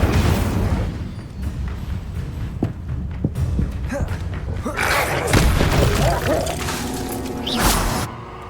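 The Incendio fire spell goes off during combat in Hogwarts Legacy, bringing a run of booming thuds and crackling, shattering bursts that swell into a louder, brighter blast near the end, with no voices.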